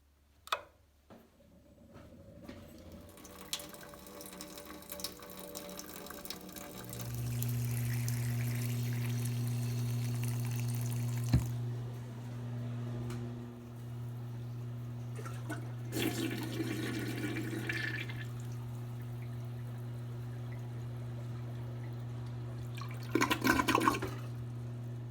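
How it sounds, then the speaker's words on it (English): House water faucets run as pink antifreeze fills the lines during winterizing, a steady low rushing flow with a pump-like hum, overlaid by brief sputtering bursts and clatter. "open up all the water faucets until it flows pink"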